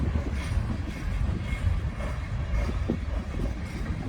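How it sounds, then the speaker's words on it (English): A Union Pacific grain train rolls past at speed on the Ogden Subdivision at Wheelon, Utah, its wagons rumbling steadily with rhythmic wheel clatter, moderately loud and continuous throughout. "That train was moving about 60 miles an hour."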